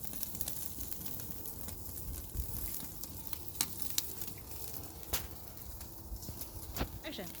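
Pork chops searing on a smoker grill give off a steady, moderately loud sizzle with scattered crackles and pops, with faint talk in the background.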